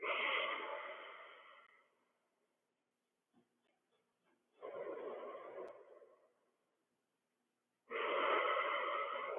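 Slow, deep breathing during a seated qigong exercise, hands resting palm over palm below the navel: three long, close, breathy exhalations separated by pauses of near silence.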